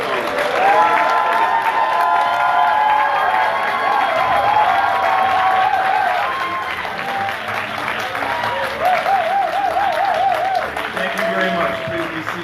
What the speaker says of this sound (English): give a big round of applause for all the graduates of 2018 of the Academy of College